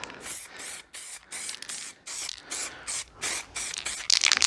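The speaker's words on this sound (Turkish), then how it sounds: "Çalkala çalkala bas çek. Yine tozlama devam ediyoruz." Metallic spray paint from an aerosol can being dusted onto ceiling trim, short hissing bursts repeated in a quick rhythm with brief pauses between them, close and fairly loud.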